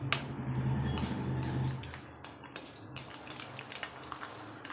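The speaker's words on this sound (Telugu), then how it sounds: "నాలుగు స్పూన్ల ఆయిల్ వేడెక్కిన తర్వాత పోపు దినుసులు వేసుకోవాలి." Tempering spices hit four spoons of hot oil in a pan for gongura pulusu: a dense, steady sizzle and crackle for about two seconds, then fading into scattered light pops and clinks.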